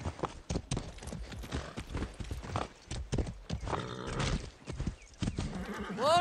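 A horse in Far Cry 6 clops along with irregular hoof strikes, then gives a rising whinny near the end, all fairly close and fairly quiet.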